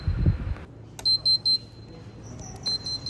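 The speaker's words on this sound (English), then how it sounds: "Then the buzzer will make a sound." A small electronic buzzer on a raindrop sensor board wired to a Raspberry Pi-style GPIO setup sounds three short high beeps, then a couple of longer tones, after an initial soft thud.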